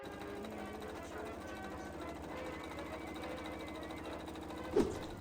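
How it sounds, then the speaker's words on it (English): A sewing machine stitches the front and back bodice pieces of a dress together, running quietly with a steady, rapid mechanical rhythm and a single soft bump near the end. "it's now time to sew the front and back pieces together"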